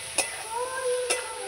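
Chili powder stirred into a pan for a festive Bengali meal: two short spoon scrapes about a second apart over a faint background hum, with no talking.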